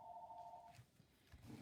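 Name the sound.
telephone ringing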